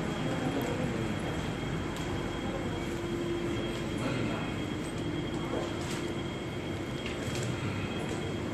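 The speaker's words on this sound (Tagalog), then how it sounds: "we need to take train" Airport train ride at Hong Kong International Airport toward immigration, with a continuous rumbling ride noise, a faint steady whine and occasional light rattles and squeaks throughout.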